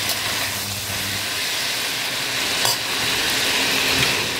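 Chicken pieces fry in a pan with a loud, continuous close-up sizzle and hiss that stays even throughout.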